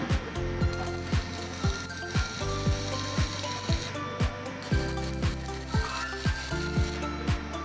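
An ARC 200GS arc welding machine at about 100 amps: a steady crackling, sizzling hiss broken by regular sharp ticks about twice a second, under a low hum.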